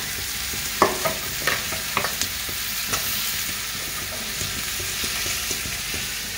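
Onion and chilli frying with turmeric and salt in a hot pan: a continuous hiss of sizzling oil, with a few crisp clinks of stirring near the start, close up and unvoiced.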